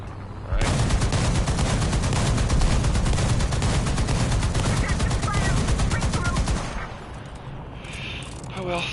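A machine gun rattles in a video game match, a long unbroken burst of rapid, loud shots lasting about six seconds before cutting off into quieter game noise.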